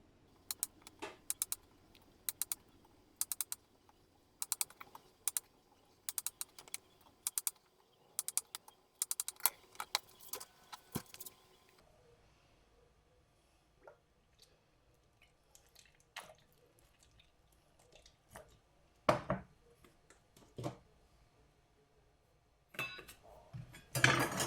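A knife slices button mushrooms on a cutting board in a home kitchen, sharp quick taps in irregular runs, then sparser single knocks and soft handling sounds, close and quiet with no talk.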